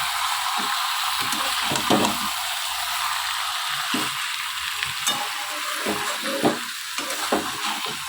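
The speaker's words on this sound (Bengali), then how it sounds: "একটু এটাকে ঢেকে ঢেকে ভাজবো" Mutton with ginger fries in a covered pan, a steady sizzle broken by repeated sharp clicks and scrapes of stirring, close and without speech.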